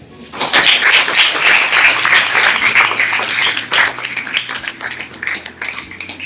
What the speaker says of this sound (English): So please welcome them all with a clap.